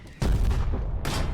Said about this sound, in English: Got some artillery. Got even more artillery.